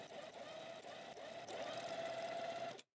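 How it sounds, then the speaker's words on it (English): A sewing machine runs steadily, stitching a rolled hem over the previous stitch line with a continuous whirring hum that briefly dips mid-run and stops abruptly near the end. "we stitch along the hem, going over that last stitch line we just made"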